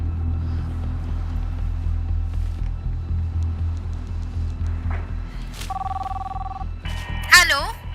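A telephone rings twice in a quiet room, a steady electronic double tone followed by a warbling ring, clear and close over a low background hum.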